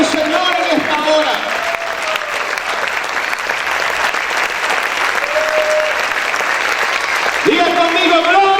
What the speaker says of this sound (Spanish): Aplaude fuerte a tu Señor en esta hora